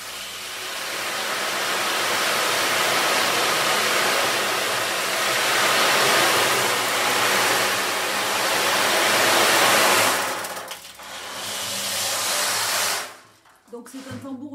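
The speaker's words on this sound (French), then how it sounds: "c'est un tambour océan et puis avec un peu plus de délicatesse et de maîtrise, on est censé entendre les vagues" An ocean drum full of rolling beads makes a loud, steady wash of hiss that swells like surf for about ten seconds, then fades and breaks off into a few scattered rattles.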